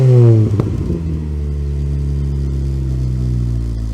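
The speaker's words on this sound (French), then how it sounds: "Je te mets quelques coups de gaz, Guigui." A Volkswagen Golf R32 engine is blipped hard, a loud rev spiking then falling back to a steady, throaty idle that carries on alone with no voices.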